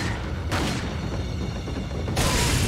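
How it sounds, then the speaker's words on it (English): Grenade blast in Resident Evil 4 (2005), two heavy booming bursts of broadband noise, one early and one near the end, over a loud continuous rumble. "We're gonna grenade him."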